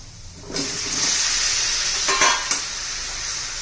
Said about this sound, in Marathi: आता त्याच्यात आपण शेवग्याच्या शेंगा घालूया